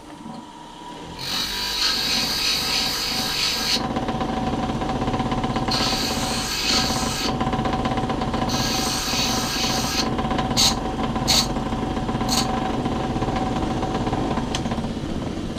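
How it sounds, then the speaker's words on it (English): A power grinder working a flat onto one end of a metal part, a loud steady motor whine running throughout with several bursts of harsher, brighter grinding as the tool bites the metal. "We're just going to grind the flat."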